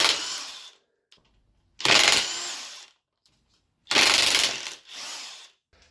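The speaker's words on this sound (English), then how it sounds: "I'm gonna use an impact gun because that's gonna be a lot easier" Impact gun removing bolts on an Audi A6 1.8T engine during a serpentine belt job, three sharp loud bursts of whirring hammering separated by silence, close and alone.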